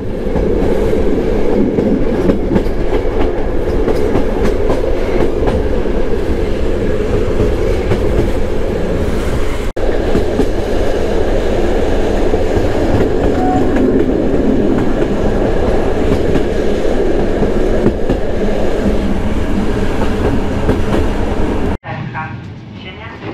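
Polish TLK Biebrza passenger train hauled by an SU-42 diesel locomotive, heard from inside a split first- and second-class carriage: a steady loud rumble with rail noise and clickety-clack that continues throughout, then cuts off abruptly near the end.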